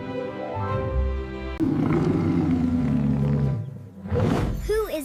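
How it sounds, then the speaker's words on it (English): A lion lets out a deep, rumbling roar that swells and holds for a couple of seconds, then trails off before a shorter second burst, loud and close. "Who is the king of the jungle? It's a lion."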